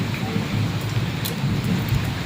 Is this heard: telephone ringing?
no